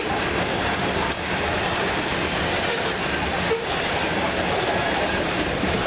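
A Canadian Pacific freight train hauling tank cars rolls steadily through the First Line Nassagaweya railway crossing in Campbellville, Ontario, a loud, continuous rumble and wheel clatter heard close at hand.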